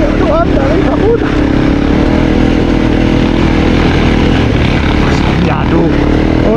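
An enduro-style trail motorcycle engine drones loudly and steadily throughout, labouring under load and struggling to move because of a problem with its wheel, with raised voices talking over it.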